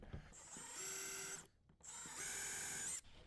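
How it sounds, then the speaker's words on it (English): A power drill with an 8mm bit whirs in two sustained bursts with a short pause between, a steady high-pitched motor whine close by, drilling a starter hole on an MK8 GTI. "We're going to use a 8mm drill bit here. I'm just going to do a starter hole for now"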